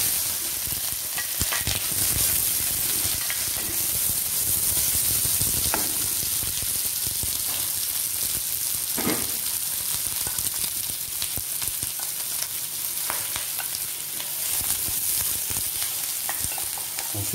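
Onions frying in very hot oil for a curry sauce, a dense, steady sizzle sustained throughout with occasional stirring scrapes, close and even in loudness.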